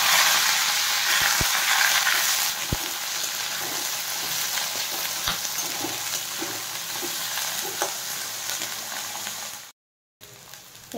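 Dry red chili, cumin seeds and bay leaf sizzle in hot oil in a wok for a Bengali plain dal tempering, a bright continuous crackle with occasional spatula scrapes and knocks, close and steady, briefly cutting out near the end.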